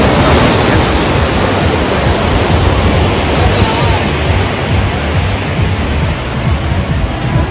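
Waves crash and wash onto a beach at high tide near a seafront resort, making a loud, continuous broadband roar with no breaks throughout.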